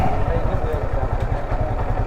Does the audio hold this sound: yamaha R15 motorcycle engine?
yes